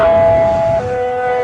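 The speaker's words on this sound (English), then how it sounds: "The first siren was tested and is operational tonight." An EOWS 1212 warning siren tested at the Fernald uranium plant, a loud steady wailing tone that steps down in pitch partway through, heard close and unbroken.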